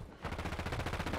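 Rapid automatic gunfire from a Call of Duty: Warzone match, a fast even burst of repeated shots, loud and close, after a brief quiet start.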